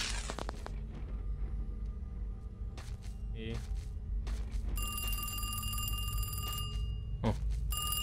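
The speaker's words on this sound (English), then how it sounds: "pick up the phone." Telephone ringing in an indie horror video game, a bright electronic ring with steady repeating tones in the latter half, over a low ambient drone with a few other game sounds.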